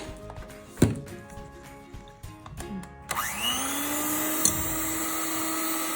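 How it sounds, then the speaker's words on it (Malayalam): An electric hand mixer whirs steadily as it beats egg whites with a pinch of salt, starting after a few clunks and knocks and running on without pause. "എന്നിട്ട് ഒന്നുകൂടെ ബീറ്റ് ചെയ്തെടുക്കാം."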